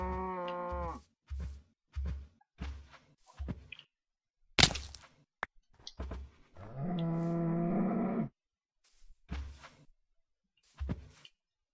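Cow in the Minecraft video game mooing several times in short, evenly spaced calls, with one long drawn-out moo midway, loud and close against near silence, plus a few brief clicks and thumps.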